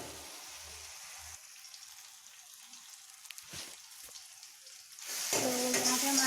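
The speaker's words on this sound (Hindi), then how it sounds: "इसे भी चलाते चलाते हमें अच्छे से भून कर तैयार कर लेना है पहले" Tomato masala for green pumpkin dal sizzles faintly in a pan with occasional stirring scrapes, then the frying grows louder and brighter toward the end.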